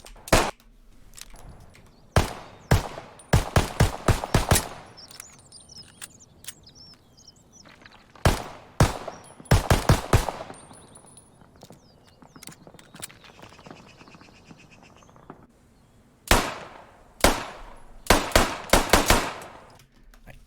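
Bursts of close rifle and machine-gun fire in the Post Scriptum shooter, sharp cracks in rapid clusters with short pauses and quieter gaps, fairly loud with faint ambient texture between volleys.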